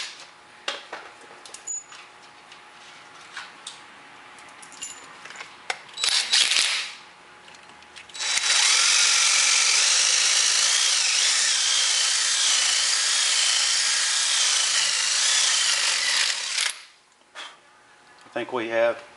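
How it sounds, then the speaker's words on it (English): A power drill bores out a brake rotor set screw on a 2003–2007 Honda Accord, a loud, steady high grinding whine lasting about eight seconds, preceded by a short burst and scattered clicks and handling noises. "Normally what I like to do is get the drill bit to the point where it's broke through the head of the screw"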